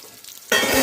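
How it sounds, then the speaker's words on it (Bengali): Salted pointed gourd (potol) frying in a wok: a faint muffled sizzle under a lid, then the lid comes off and a loud, bright close-up sizzle bursts out and carries on. "এইভাবে ঢাকা দিয়ে দিয়ে আমরা ভাজবো"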